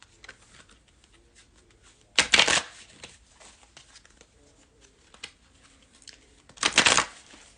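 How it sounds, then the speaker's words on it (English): Two short bursts of oracle cards being shuffled in the hands, crisp riffling rattles a few seconds apart, close and fairly loud over a quiet room with faint small handling noises between. "I'm going to pull a card from the Soulful Woman Oracle deck"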